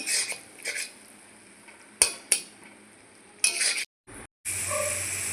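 Papaya naru mixture with jaggery stirred and fried in a pan, with scattered scraping clinks of a spoon against metal and a steady sizzle, broken by a brief near-silent gap before the frying resumes.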